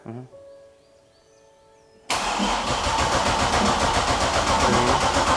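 A Katech LS7 V8 cranks briefly and then fires up for its first start, settling into a loud, steady rumbling idle that stays close and continuous after a quiet lead-in.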